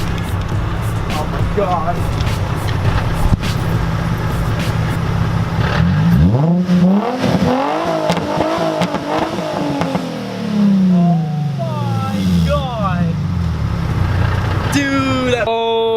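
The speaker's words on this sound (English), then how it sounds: "I'm gonna redline it real quick" Nissan 350Z with a muffler delete revving hard toward redline, the engine note sweeping up and falling back in loud rising and falling pulls, with an excited voice exclaiming over it.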